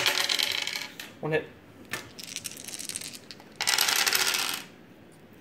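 Dice clattering onto a table during an X-Wing miniatures game, two bursts of rattling rolls with a short call from a player between them.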